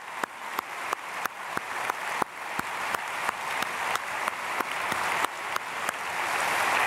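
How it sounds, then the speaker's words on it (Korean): A church congregation at a Sunday service applauds, a soft continuous bed of scattered clapping punctuated by regular sharp louder claps, moderately distant. "몰아서 박수로 축복하겠습니다"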